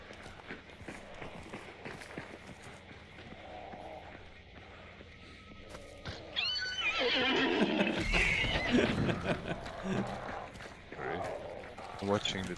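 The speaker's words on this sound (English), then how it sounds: "Damn, can you kill this horse?" A horse whinnies loudly in the video game Hunt: Showdown, a drawn-out neigh rising near the middle amid gameplay noise, with hooves and other game sounds around it and people talking over it.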